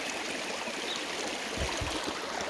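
A village river in Levka, Bulgaria, flows over stepping stones, a soft, steady babble and trickle of running water heard close by, with a couple of brief low splashes near the end.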